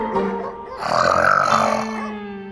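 A woman snores loudly in a TV sitcom night scene: one drawn-out, rasping, throaty snore that swells in the middle and then fades.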